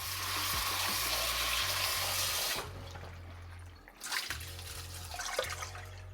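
Southern magnolia leaves rinsed under running water, a steady close splashing flow that stops, then resumes more faintly with light trickles and drips.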